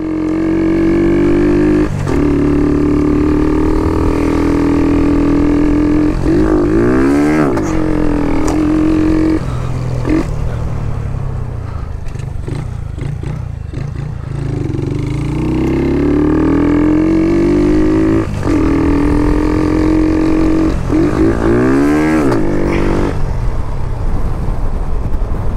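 Shineray motorcycle engine with a reversed carburetor and intake manifold runs loud and close, with an uneven, stumbling idle and repeated misfires and revs rising and falling.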